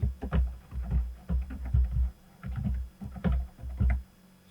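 Keys clack on a computer keyboard in quick, uneven bursts of typing with brief pauses between them, close and fairly quiet, with no talking.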